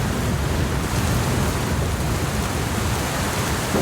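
Dense, loud downpour during a storm in the survival game Bootstrap Island roars steadily throughout, a constant wash of heavy rain with low rumbling beneath and no voices.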